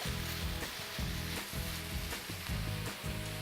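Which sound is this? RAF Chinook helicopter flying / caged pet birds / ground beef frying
ground beef frying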